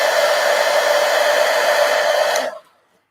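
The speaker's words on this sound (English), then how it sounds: "now I'm going to let this dry or I'll hit it with the heat gun." A heat gun blows loudly and steadily with a strong whooshing drone while drying marker ink on a colored flower drawing, then switches off and falls to silence at the end; nearby, with no talking.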